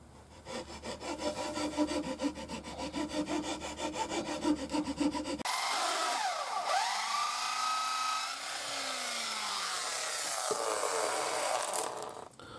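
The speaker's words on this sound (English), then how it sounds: "Just drilling the hole for the hook." A hole is drilled into a wooden scout stick with a power tool, giving a steady grinding, rasping whine that holds for several seconds and then shifts pitch as the bit works through the wood.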